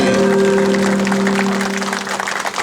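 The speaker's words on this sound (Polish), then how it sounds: "Brawa, Bartek, Bartek wygrał." Applause from a crowd at a Polish road cycling championship award ceremony in Sobótka, steady loud clapping throughout with a sustained tonal hum beneath.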